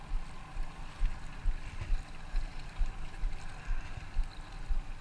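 A fishing boat's motor keeps up a low, steady rumble with a rhythmic throbbing pulse, mixed with faint water wash and no speech.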